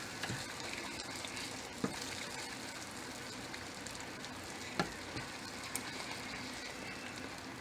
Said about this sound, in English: Get to scrambling up these eggs.